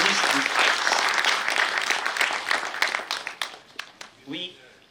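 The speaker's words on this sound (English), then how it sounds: "Let us give a round of applause for their hard work and painstaking efforts to reach these heights." An audience at an award function gives a round of applause: dense, steady clapping fills the first three seconds, then thins into scattered claps and fades, with a voice speaking briefly near the end.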